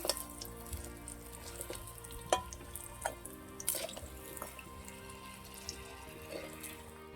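Long slices of eggplant fry in a pan with a quiet, steady sizzle, broken by a few sharp clicks and scrapes as the pieces are turned over.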